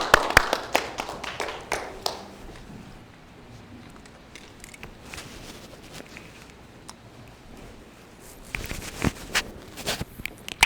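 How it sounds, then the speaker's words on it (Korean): A congregation claps in applause during a Sunday worship service at a Presbyterian church, with bursts of clapping at the start, a quieter stretch, then another round of applause near the end. "위대하신 하나님께 영광의 박수 올리겠습니다."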